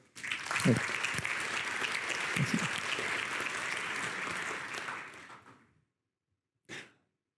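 An audience applauds a conference talk on Java exceptions, with loud sustained clapping for about five seconds that fades out, followed by a brief faint burst.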